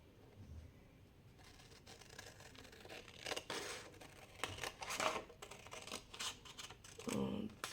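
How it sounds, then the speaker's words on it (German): Scissors cutting through paper for a handmade Halloween journal: repeated close snips with crisp papery rustling and scraping, quiet and uneven in rhythm. "schneiden wir das einfach mit der Schere abeinander."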